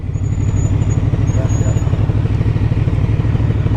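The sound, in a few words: motorcycle passing by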